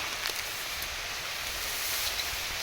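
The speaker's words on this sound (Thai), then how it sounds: "ฝนเริ่มโปรยๆแล้วนะครับ" Light rain beginning to drizzle outdoors beside an eel trap, a soft steady patter and hiss spread evenly throughout with a few faint drops standing out, no voices.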